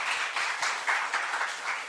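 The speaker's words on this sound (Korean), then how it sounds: "우리 박수 한번 해주실까요?" Church congregation clapping for the accompanist, a brief burst of many hands with uneven pulses, close and moderately loud.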